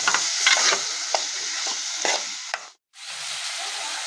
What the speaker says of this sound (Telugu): ఇప్పుడు కట్ చేసి పెట్టుకున్న కాకరకాయలు వేసుకోవాలి ఇప్పుడు ఇలా కలుపుకోవాలి